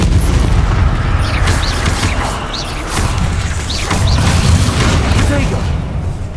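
Loud, continuous booming blasts and crashing from Confringo spell explosions in Hogwarts Legacy combat, dense and close, with a voice shouting spell names over the din.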